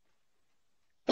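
A single short cough bursts out near the end after near silence, close and fairly loud.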